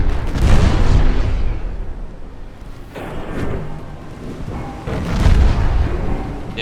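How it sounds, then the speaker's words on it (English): Heavy naval gunfire from warships in Ultimate Admiral Dreadnoughts: loud booming salvos, one near the start, another around the middle and a big blast near the end, each rolling into a rumbling decay. "Stop shooting me."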